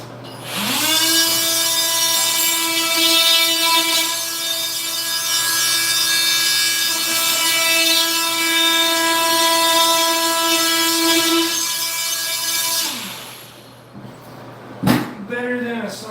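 A cordless battery-powered oscillating multi-tool cuts steadily for about twelve seconds, a loud close buzzing whine with a stable pitch, then winds down and stops, followed by a few brief knocks.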